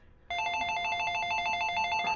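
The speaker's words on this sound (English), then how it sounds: "Home phone." A home telephone rings with a bright, steady electronic trill that starts abruptly and holds loud and alone for about two seconds, with no talking over it.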